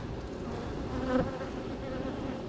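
Honey bees buzz around an open hive frame in a dense, steady swarm hum that stays close and constant throughout, with no voices over it.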